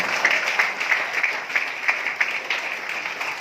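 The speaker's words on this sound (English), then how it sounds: "deserves a very loud applause to all of them" Audience applause for the weekly speakers at a leadership sharing session, a moderate, even patter of many hands clapping without talk.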